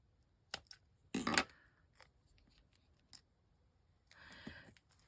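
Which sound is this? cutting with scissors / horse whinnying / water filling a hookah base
cutting with scissors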